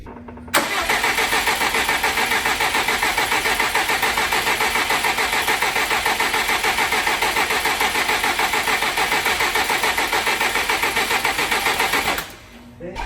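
A Subaru WRX engine cranks over on the starter without firing, priming oil pressure after a rebuild: a steady, loud, rhythmic churning that runs unbroken for about twelve seconds, then cuts off.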